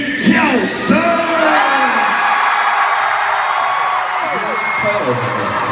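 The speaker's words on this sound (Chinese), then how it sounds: "让我们来听一下全部高雄人的尖叫声" A concert crowd in Kaohsiung Arena screams and whoops at a 9453 tour show, a loud sustained roar of many voices filling the hall without a break.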